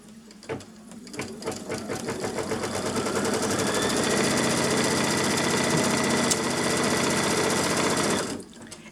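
A sewing machine stitches patchwork fabric, starting with a few uneven stitches and then running steadily in a fast, even whirring rattle for several seconds before stopping abruptly.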